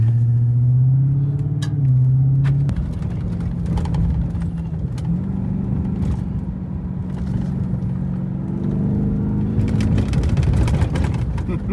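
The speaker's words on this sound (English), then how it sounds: "we're changing exhaust mode from sport to Baja" 2025 Ford Raptor R pickup truck in Baja exhaust mode on an off-road course at Durhamtown Offroad: a steady, loud engine rumble with shifting pitch, rising revs near the start and end, and continuous road and exhaust noise throughout.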